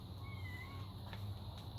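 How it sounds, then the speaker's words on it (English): A trapped cat meows from behind a closed garage door, a faint, muffled cry heard against a steady low hum. "try to ignore the mews in the background"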